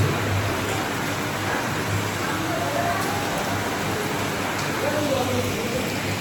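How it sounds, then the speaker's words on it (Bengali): Constant heavy rain falls without a break, a dense, uniform hiss that stays at the same level throughout. "এখনও কনস্ট্যান্ট বৃষ্টি হয়ে যাচ্ছে"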